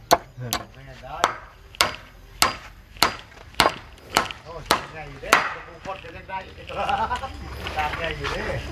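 Bamboo struck in a steady series of sharp wooden knocks, about a dozen evenly spaced hard hits close by, followed by people talking at the end.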